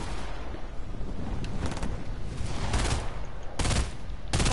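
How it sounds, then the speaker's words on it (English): Gunfire in a multiplayer shooter game, with several sharp bursts of shots cracking out at irregular intervals over a constant rumbling background, with no voices heard. "I hear a shot at me"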